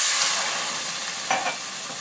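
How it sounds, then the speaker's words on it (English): Water hits browning rice in a hot pot and sets off a broad steady sizzle that fades slowly, with a brief stir or splash near the end. "So I'm going to add in the water and it's going to boil."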